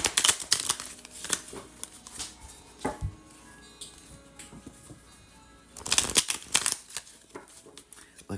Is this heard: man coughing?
no